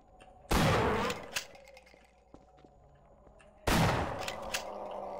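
Two loud shotgun blasts in the video game Half-Life, about three seconds apart, each a sharp broadband boom with a short decaying tail, separated by quiet in-game ambience and faint clicks.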